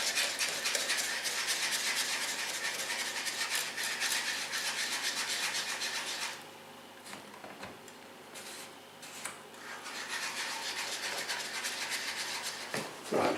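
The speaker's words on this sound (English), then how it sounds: "I've finished whisking, I'm not going to whisk anymore" A whisk scrapes and rubs rapidly around a pan of milk sauce, a steady, close, bristly swishing that pauses midway, then starts again more unevenly before stopping.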